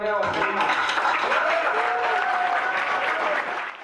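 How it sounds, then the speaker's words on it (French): Applause fills an electoral commission room in Donetsk as a referendum result is announced, steady and dense clapping from a crowd nearby, continuous throughout, with a voice faintly heard underneath. "Applaudissements à la commission électorale"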